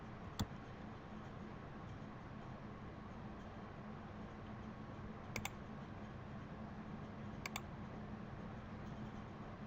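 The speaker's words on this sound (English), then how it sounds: "let's type in Steve Jobs again" A computer keyboard is typed on faintly under a steady background hiss, with only a few sparse clicks standing out and no talking.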